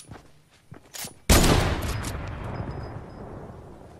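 A loud burst of rapid gunfire erupts in a video game, likely the drum gun and SMG, after a few lighter clicks and footsteps, then tails off into a long fading echo.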